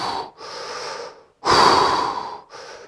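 A man imitates very heavy breathing, with two long, loud, rasping breaths separated by short silences and followed by the start of a third.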